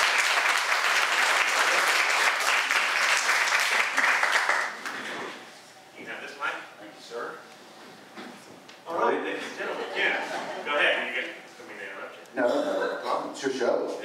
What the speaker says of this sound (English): Kenn Woodard, let's give him a round of applause.